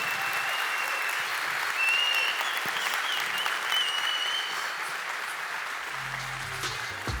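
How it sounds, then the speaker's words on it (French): An audience at a Paris gathering of 1800 entrepreneurs breaks into sustained, dense applause, loud and continuous, with faint voices and a brief low rumble near the end. "Merci beaucoup, merci, on applaudit"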